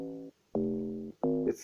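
A "log 7" amapiano log drum sounds three hollow, pitched woody tones, each struck sharply and held briefly, the second longest, quiet and alone.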